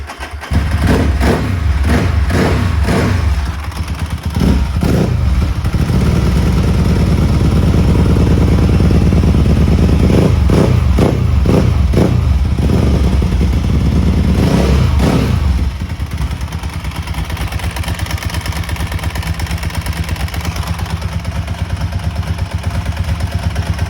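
A Ducati 999R or MV Agusta F4 1000 superbike engine runs loud and close, with a few sharp throttle blips over a rough idle before it settles into a steady, heavy idle.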